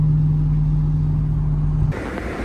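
A 2010 Dodge Challenger SRT8 cruising at 76 mph around 2200 rpm, a low steady engine hum with road noise heard from inside the cabin, shifting slightly near the end.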